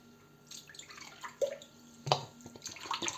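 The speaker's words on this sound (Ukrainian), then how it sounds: "До миски вливаємо мінеральну воду, сильно газовану, пів літри." Strongly carbonated mineral water, about half a litre, poured into a bowl for dumpling dough, giving a close, fizzy splashing trickle with bright crackling bubbles that swells and eases over a few seconds.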